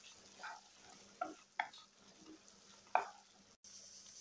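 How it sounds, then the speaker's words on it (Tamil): Boiled cauliflower being stirred into a green peas masala in a pan gives a few soft scraping stirs over a faint low sizzle, quiet and close, with no talking. "சேர்த்துட்டு இந்த மசாலாவோடு சேர்த்து நல்லா கிளறி விட்டுக்கலாம்."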